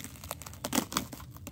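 Plastic protective film being peeled back from a new Roku TV, a short burst of close crinkling and tearing rustles with a few sharper crackles in the middle, no voices.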